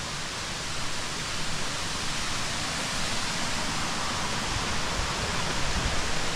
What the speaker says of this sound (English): Waterfall level 1